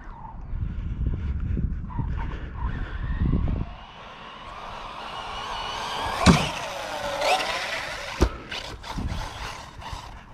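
A Team Corally Spark XB6 RC buggy whines past, its motor rising then fading, followed by a couple of sharp landing thumps and rattles.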